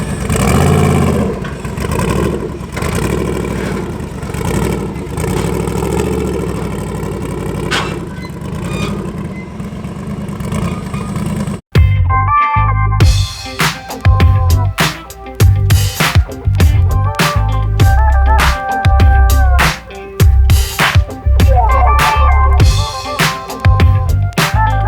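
Twin-turbo LS-swapped Chevy S10 on a chassis dyno with nitrous, its engine roaring loud and sustained, then cutting off before a burst of choppy, stuttering revs with sharp pops and crackles close by.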